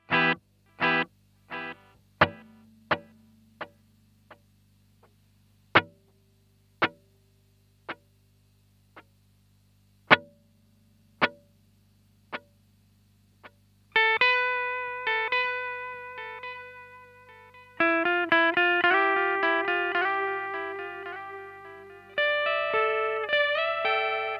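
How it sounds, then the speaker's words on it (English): Electric guitar played through a Danelectro Dan Echo delay pedal set to a long echo of roughly a second: single plucked notes each trailed by clear repeating echoes, then sustained chords ringing with layered repeats, loud and up close. "So now it's real sort of echo territory."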